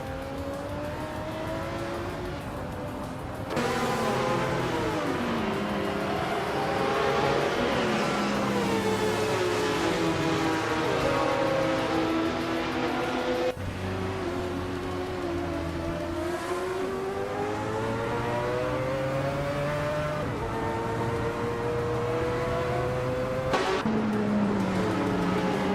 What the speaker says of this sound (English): Gabby the Minimac is racing a Mercedes C180 DTM from 1994.